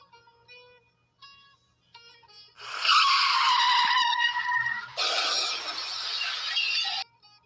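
A car in a Roblox game skids out of control, a loud sustained tire screech in two long bursts after a few soft game tones.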